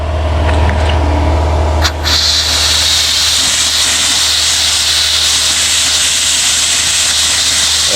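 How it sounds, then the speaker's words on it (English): Compressed air from an air compressor hisses steadily through a bass boat's fuel system, a loud continuous rush with a brief burst near two seconds, set against a low hum. "So, rag, air compressor, here we go."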